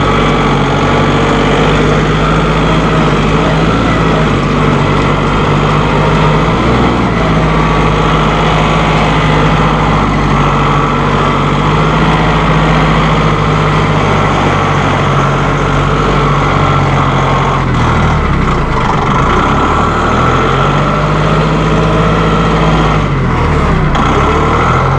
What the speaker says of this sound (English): who's ready to take a ride in the new Massey Ferguson